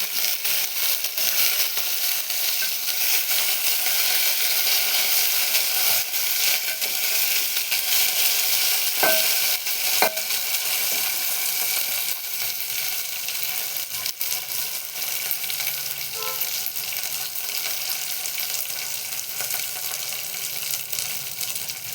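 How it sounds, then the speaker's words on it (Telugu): A handful of curry leaves frying in hot oil for a tomato-mint chutney, with a steady, close sizzle and a few sharper crackles and scrapes as the pan is stirred. "గుప్పెడు కరివేపాకును వేసుకుందాం. వీటిని బాగా కలుపుకోవాలి."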